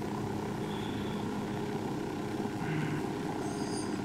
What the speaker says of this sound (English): there a chopper somewhere?